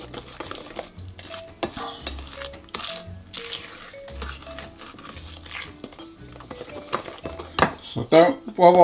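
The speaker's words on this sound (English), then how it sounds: "We're going to stir this in." A spoon stirs vanilla into maple syrup in a bowl, with scraping clinks and soft knocks against the dish in irregular strokes, close by, followed by a brief louder clatter near the end.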